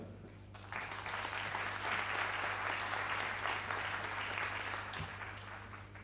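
Applause from a forum audience welcoming a regional premier to the stage, swelling in after a quiet start into a broad, sustained clapping that stays steady over a low hum, then eases slightly toward the end.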